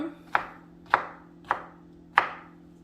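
A knife chops ingredients for pico de gallo on a cutting board: four sharp, evenly spaced chops about half a second apart, close and clear against a quiet background.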